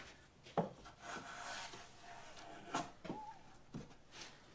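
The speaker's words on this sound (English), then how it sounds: "just a little bit of sandpaper to chamfer that" Sandpaper rubbed by hand along a wooden cabinet edge to chamfer it, a few soft rasping strokes with faint knocks, quiet and close, no talking.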